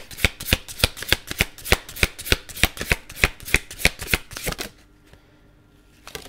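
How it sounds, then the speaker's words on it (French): Oracle cards shuffled in quick, steady riffling bursts, about a dozen crisp snaps close up, ending abruptly in near silence before one faint final sound as a card is drawn. "une dernière petite carte d'oracle pour les poissons du 1er au 7 avril 2019"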